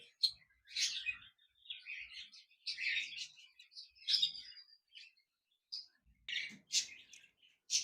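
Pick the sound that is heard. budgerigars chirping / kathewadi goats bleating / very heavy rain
budgerigars chirping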